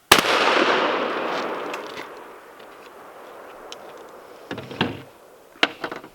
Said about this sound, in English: One round aiming at the number 2 on the right target, Midland number 6 shot.